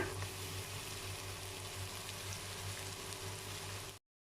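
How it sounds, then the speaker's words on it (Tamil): Onion roasting in a pan while palak gosht, a spinach and mutton gravy, cooks, giving a steady, even sizzle and frying hiss that runs unbroken at moderate level, close by, with no voices. "ரோஸ்ட் ஆகும் இந்த வெங்காயம். இதையும் நல்லா வணக்கிக்கலாங்க."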